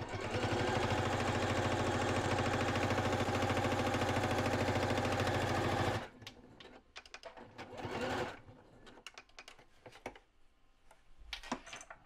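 A sewing machine stitching across the top of a fabric alligator pouch, a loud steady rapid mechanical chatter for about six seconds, then stopping, followed by scattered clicks, taps and fabric handling.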